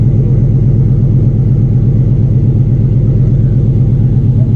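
A Trans Am with an LS6 intake and long-tube headers idles on a cold day, its engine a loud, steady, throbbing rumble close by with a regular low pulse and no voices.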